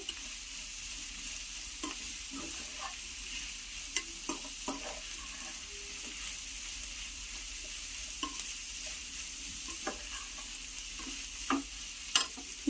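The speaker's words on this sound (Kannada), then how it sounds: "ಇವಾಗ ಕ್ಯಾರೆಟ್ ಎಲ್ಲಾನು ಈ ಥರ 2 ಮಿನಿಟ್ ಈ ಥರ ಫ್ರೈ ಮಾಡ್ಕೊಳ್ಳಿ" Carrots for egg fried rice stir-frying in a pan, a steady broad sizzle with scattered scrapes and light clinks from stirring, continuous and close with no voices.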